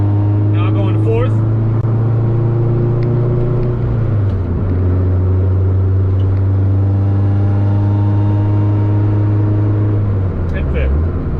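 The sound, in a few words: Honda Civic engine accelerating in fourth gear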